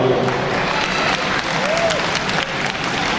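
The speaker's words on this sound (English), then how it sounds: "Let's give all the organizers and the volunteers a big round of applause." Crowd applause for organizers and volunteers at a Tamil pavilion of the Brampton multicultural festival, loud sustained clapping from many people with faint voices and cheers mixed in.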